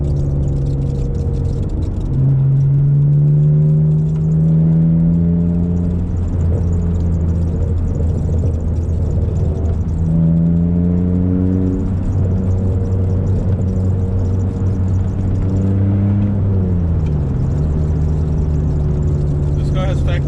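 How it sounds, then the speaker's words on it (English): A BMW car engine with factory exhaust burbles idles and revs, a steady low rumble rising and falling, with pops and burbles from the exhaust, loud and close. "This car has factory burbles"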